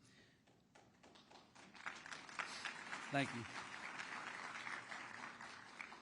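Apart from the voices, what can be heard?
audience clapping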